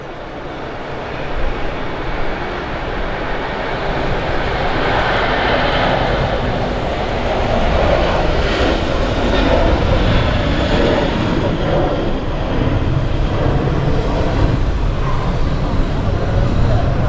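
An Etihad airliner roars steadily at Manchester Airport, a loud continuous broadband jet engine noise holding for many seconds, close by and without pause.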